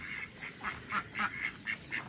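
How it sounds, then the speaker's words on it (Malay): Muscovy ducks in a home garden, five birds, two males and three females, giving a rapid series of soft, nasal calls in short regular bursts, close by and fairly quiet. "Itik jambui ni Ada lima ekor Dua jantan, tiga betina"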